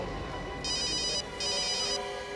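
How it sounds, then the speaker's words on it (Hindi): A telephone ringing in two electronic bursts, each about half a second long with a short gap between, loud and close over a quiet room with no talk. "मुझे फोन लेना पड़ेगा।"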